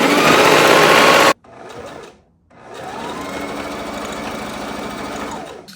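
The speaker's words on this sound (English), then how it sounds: "I'm just going to sew it down on both sides" A sewing machine stitches non-fraying fabric down on both sides of a robe collar, running in a loud close burst, pausing briefly, then resuming in a steadier, quieter run.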